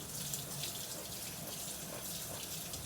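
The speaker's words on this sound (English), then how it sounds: "I'm going to rinse this little mini pepper here." A kitchen tap runs steadily as a small mini pepper is rinsed under it, giving a close, continuous hiss of water with no break and no talk.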